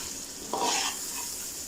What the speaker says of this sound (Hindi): और फिर अब इसको अच्छे से भून लेंगे।